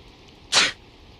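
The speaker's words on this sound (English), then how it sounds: "Holy shit, I sneezed!" A Persona 4 character lets out one short, sharp sneeze, close and loud, alone against a quiet background.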